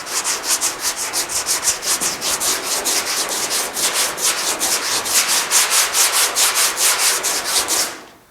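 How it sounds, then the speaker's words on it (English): Steel fender seam on a GTO restomod being sanded by hand, with steady rhythmic back-and-forth scraping strokes, close and loud, continuing without pause for several seconds before stopping abruptly. "I'm gonna go ahead and sand and see what happens"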